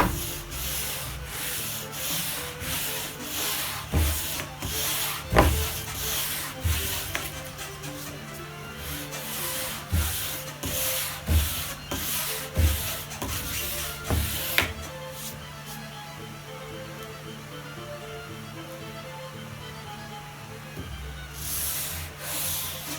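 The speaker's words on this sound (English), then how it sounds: "I'm going to hold a piece of sandpaper over that and sand this down." Sandpaper held over an 8-inch radius block rasps back and forth on a cigar box guitar fretboard in rhythmic close strokes. The strokes run for about fifteen seconds, then a quieter stretch follows before a final burst.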